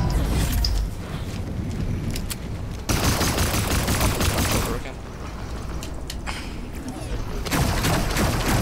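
Fortnite gunfire: dense bursts of rapid shots and booming fire in heavy, continuous stretches broken by brief lulls, loud and close, with a voice talking over the action.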